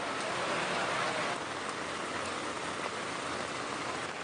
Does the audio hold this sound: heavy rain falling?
yes